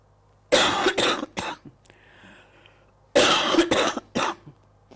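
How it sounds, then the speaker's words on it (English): Two bursts of harsh coughing, each a cluster of three or four quick coughs, close and loud, separated by a quiet pause with faint background hum. "I'm going to cough, so I have to have timeout."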